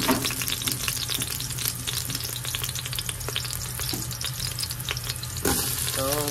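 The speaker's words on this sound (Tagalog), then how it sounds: "Igigisa na natin yung ating bawang at saka sibuyas" Garlic and onion sauté in hot cooking oil, making a loud, continuous crackling sizzle with dense popping spatters and occasional stirring scrapes, close up and uninterrupted by talk.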